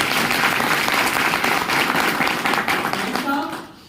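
Loud, dense audience applause fills a meeting hall, steady clapping from many hands for a few seconds before fading out at the end.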